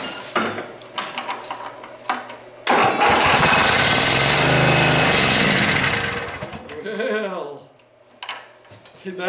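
A 12.5 hp Vanguard small engine cranks in short bursts, then fires and roars loudly for several seconds before dying back down, heard close up.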